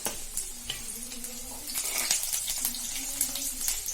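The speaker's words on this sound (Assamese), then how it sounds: "পিঁয়াজখিনি অলপ ৰঙচুৱা হোৱালৈকে ভাজি ল'ব লাগিব।" Onions frying with panch phoron in a pan for a brinjal dish, a steady soft sizzle with faint stirring scrapes, close and continuous, with no speech.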